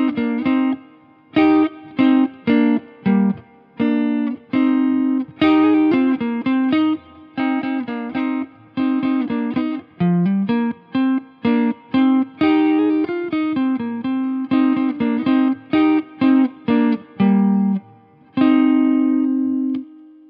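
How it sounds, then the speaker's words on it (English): Clean verse tone from a Fender Stratocaster neck pickup run through a Boss preamp and Holy Grail reverb into a Marshall Silver Jubilee amp, playing a steady pattern of rhythmic chordal strums with short gaps, close and fairly loud with no talking. "The verse sound is a combination of the Boss preamp and the Holy Grail, which goes to the Silver Jubilee."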